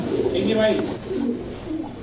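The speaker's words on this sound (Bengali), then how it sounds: "কি কবুতর এটা ভাই এটা হলো আপনার কেটিএম টিডি কেটিএম টিডি" KTM teddy pigeons coo softly and close by in a throaty, rolling rhythm, with a voice speaking over them.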